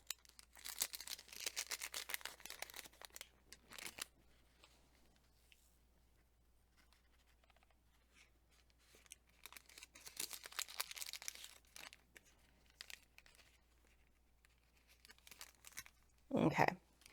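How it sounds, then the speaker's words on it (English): Scissors cutting open a small paper seed packet, heard as quiet crinkling and tearing snips in two bursts with a louder crunch near the end, a soft voice speaking at times. "gonna have to use some scissors here to open this guy."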